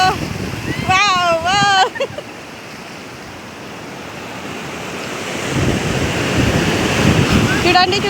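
Water waves wash in and surge with a rushing roar, rising toward the end, while a voice calls out excitedly near the start and wind buffets the microphone.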